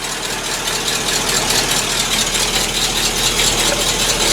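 A C60 truck engine runs loud and close from inside the cab on a driveway gravel job, a steady rumbling drone with a rattling edge and no talking over it.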